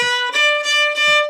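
A Quebec-style fiddle sustains one steady, even straight down-bow note, with three slight bow-change bumps and no accent or lift, plain and close.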